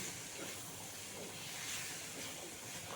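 Spices for a jackfruit pickle frying in a pan over low heat, giving a steady, even hiss throughout without a break, with no talking.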